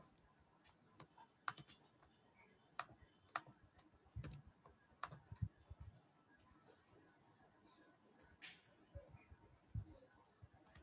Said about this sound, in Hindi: क्वेश्चन मेरे को टाइप करना पड़ेगा।